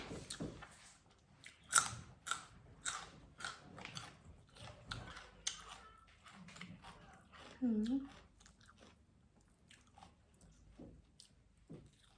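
Someone eats a banana at a Thai home meal of spicy raw beef koi, with soft chewing and biting sounds close up, broken by intermittent talk and short clicks.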